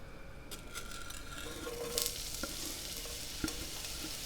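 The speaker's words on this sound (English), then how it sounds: "That's the perfect sizzle." Chopped onion sizzling in hot extra virgin olive oil in a pan, a steady crackling fry with brief spatters and stirring scrapes, close and continuous with no talk.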